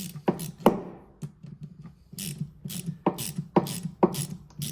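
A Jubilee hose clip is tightened on a diesel heater inlet, giving short bursts of sharp ratcheting clicks up close, stopping and starting in uneven runs with no speech.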